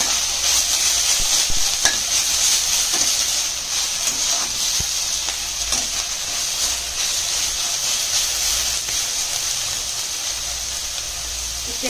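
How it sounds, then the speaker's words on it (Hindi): Chicken pieces frying in a pan for chicken soup, giving a steady, close sizzle with a constant hiss and occasional stirring scrapes throughout, no voices. "एबे चिकन को दे देबा। एबे ताकू 2 से 3 मिनिट भाजिबा।"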